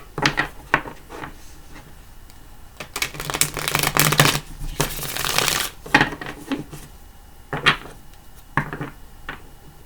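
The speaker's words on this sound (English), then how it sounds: "Give them 3 shuffles." Cosmic Tarot cards shuffled by hand in several bursts, with short riffling flutters early on, then longer, louder continuous shuffling in the middle and a few brief riffles near the end. Close and clear, with no talking.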